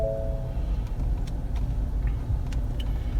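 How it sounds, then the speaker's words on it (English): A passenger car being moved sets off a steady low engine rumble that runs the whole time, close and fairly loud, with small clicks and knocks over it and no talk. "I'm gonna move the wife's car."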